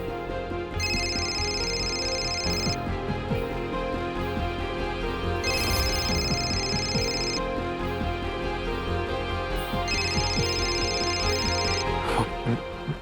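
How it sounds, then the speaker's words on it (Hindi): A telephone rings indoors in three repeated bursts of an electronic ringtone, each lasting about two seconds with pauses between, sounding clearly over a dense background of music. "न्यूयॉर्क से फोन है।"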